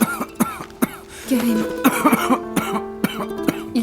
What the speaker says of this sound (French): Il tousse beaucoup.